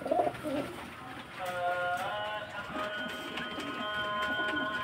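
Domestic pigeons coo close by in soft, rolling, repeated calls. Faint background noise lies beneath the calls, and no one speaks.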